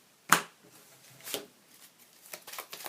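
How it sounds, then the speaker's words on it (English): A few quick riffles of cards being shuffled for the Sentinels of the Multiverse card game, a sharp burst followed by softer flicks, close up and otherwise quiet. "And shuffle that into the environment deck."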